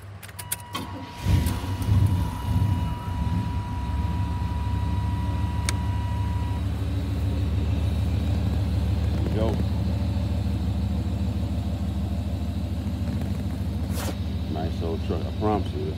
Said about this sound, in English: I'm gonna start it up for you, let you hear it.